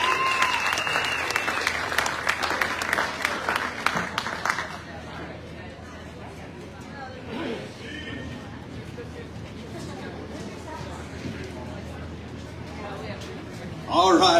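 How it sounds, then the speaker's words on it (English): An audience gives a big round of applause at the awards of a national sheep shearing competition, loud clapping for about five seconds that dies into murmuring crowd chatter, with a short burst of clapping again at the end. "let's give all one more big round of applause"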